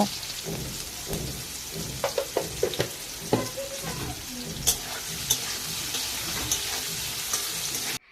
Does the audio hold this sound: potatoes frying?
yes